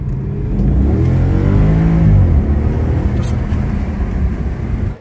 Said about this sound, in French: Je peux accélérer un petit peu